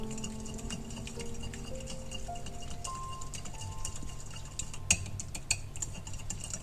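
Light clinking and scraping of a spoon stirring salad dressing in a bowl, a few sharp taps standing out near the end over a quiet background.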